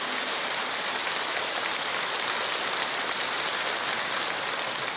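A large audience breaks into dense, steady applause to welcome an elder monk to a Buddhist dharma lecture. The applause fills the whole stretch evenly and loudly, like a continuous wash.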